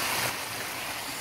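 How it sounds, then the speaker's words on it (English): Steady broadband rushing of irrigation water in a rural village in Kota Belud, Sabah, continuous and fairly close, with no voices. "we used to have fun at the irrigation, the irrigation water like this"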